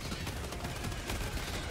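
A teammate's gun fires in Helldivers 2 as a dense, continuous burst of rapid automatic shots, loud and close, filling the whole moment without a break.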